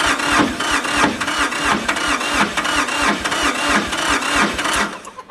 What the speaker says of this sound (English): I'll hit it with some ether and we'll see if it'll crank.